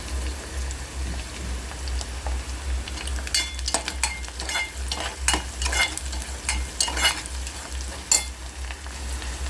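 Onions fry in a pan for a spicy liver masala, giving a steady close sizzle with scraping stirs and clustered crackles through the middle, with no talking.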